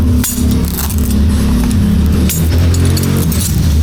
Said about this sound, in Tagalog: Ito yung mga wrench natin.